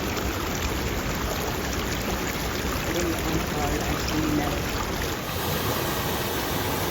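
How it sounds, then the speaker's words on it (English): Small waterfall in a side creek of Ghost Canyon near Havasupai Falls, a steady broadband rush of falling water that fills the whole clip at close range and does not let up. "Just a little waterfall like that's awfully satisfying."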